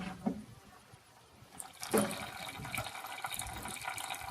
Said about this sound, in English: here comes the water from the front side